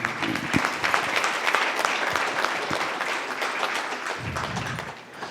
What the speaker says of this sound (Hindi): उनके लिए भी कृपया ज़ोरदार तालियां